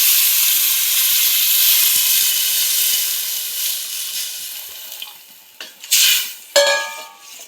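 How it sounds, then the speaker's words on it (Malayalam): Chicken curry with spices and milk is stirred in a pan over a steady sizzling hiss, with a few sharp scrapes and clinks of the spoon toward the end. "ഇത് നല്ലോണം ഇളക്കി യോജിപ്പിക്കാം."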